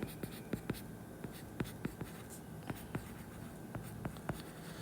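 Pen or chalk writing in a classroom during a biology lesson, with a series of quick, sharp strokes and taps in an irregular rhythm, close and faint, without speech.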